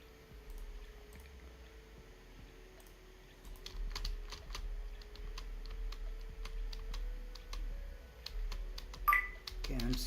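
Fingers patter on a computer keyboard in quick, irregular runs of crisp clicks, moderately close, with a quiet low hum underneath and a louder clatter near the end.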